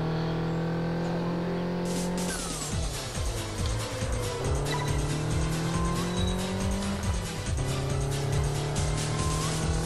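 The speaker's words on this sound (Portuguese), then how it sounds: "Ainda mais que dá pra ouvir o som do carro" Racing car engine in the Test Drive Unlimited 2 driving game, loud and steady, revving and shifting gears with repeated tire squeals and skids through corners, no talk over it.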